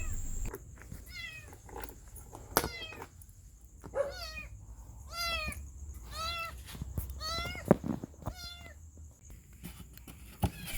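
A mother cat meows repeatedly and fairly close, several drawn-out cries spaced a second or so apart, over a quiet background with a faint steady hum.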